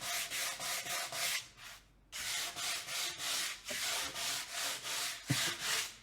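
Steady back-and-forth sanding on a rustic painted wooden porch sign, with repeated rhythmic rasping strokes at close range, a short pause around the middle, then more even strokes.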